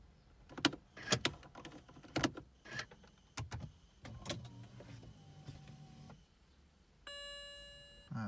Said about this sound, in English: I'll try switching the ignition off and on.